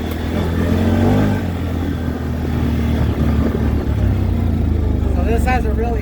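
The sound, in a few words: CFMoto Z-Force 950 side-by-side engine at full throttle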